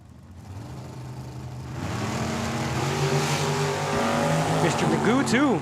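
A drag racing car launches down the strip at Tucson Dragway, its engine roaring and building in pitch as it pulls away, with a loud announcer talking over it.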